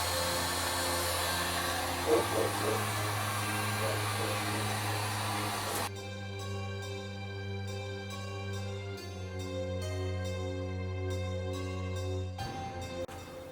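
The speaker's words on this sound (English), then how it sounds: "Heat gun time. I'm going to take this body that I've made now and just shrink it down." Heat gun blowing hot air to shrink a handmade prop body, a steady loud whooshing drone that runs throughout with a tonal hum, a shift in tone midway, and a brief cut near the end.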